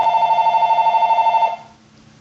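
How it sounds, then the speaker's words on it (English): A telephone rings with a loud, steady electronic warble at close range, then cuts off and leaves quiet room tone. "we got interrupted by a phone call"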